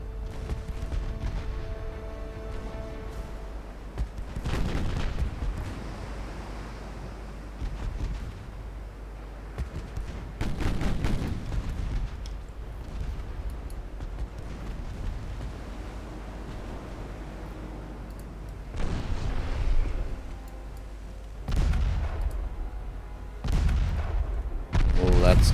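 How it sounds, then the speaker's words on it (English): 4-inch naval guns firing in the naval warfare game Ultimate Admiral Dreadnoughts, several deep booming salvos spaced irregularly over a steady low rumble, with someone talking between shots. "Well, the 4-inch guns are firing too."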